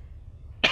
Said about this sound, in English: And also a cough.